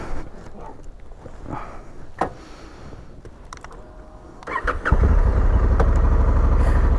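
A Honda Africa Twin 1100 DCT motorcycle starts in a forest after several seconds of quiet outdoor ambience, then settles into a loud, steady, deep idle that continues to the end.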